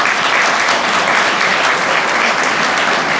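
Loud, sustained applause from a full room at a promotion ceremony, a dense steady wash of clapping with no pauses, calling for a standing ovation for twelve professionals.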